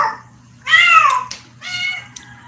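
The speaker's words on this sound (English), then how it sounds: "Dude, my cat has gone nuts." A house cat yowls loudly and insistently, giving two long, drawn-out meows with a brief chirp between them, close and clear against a faint low background hum.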